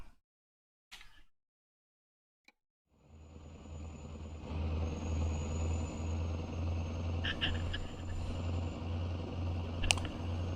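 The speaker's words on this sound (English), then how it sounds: "Seem to have a lot of truck sound." In American Truck Simulator, after a few seconds of near silence and a couple of clicks, a truck engine starts up and settles into a low, steady droning hum at moderate volume.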